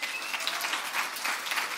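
Steady applause from a rally audience at a Richmond event, continuous and fairly even, heard as a dense wash of clapping with no talk over it.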